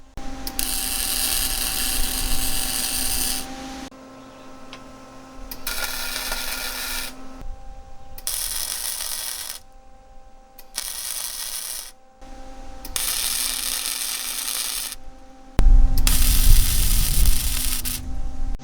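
Welder tacking together a scrap metal tray for a wood-burning barbecue grill. Six loud, harsh crackling arc bursts last a few seconds each, separated by short gaps with a low steady hum.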